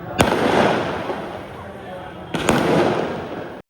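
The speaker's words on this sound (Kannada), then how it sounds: "ಟಾಸ್ ಗೆದ್ದಿದ್ಕೆ ಪಟಾಕಿ ಹೊಡಿತಾವ್ರೆ." Two sharp firecracker bursts, close and loud, set off to celebrate winning the cricket toss on an RCB match day, each followed by crackling debris, with faint voices underneath.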